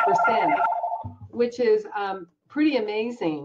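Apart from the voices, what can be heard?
telephone ringing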